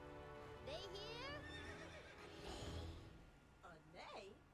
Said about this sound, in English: a neigh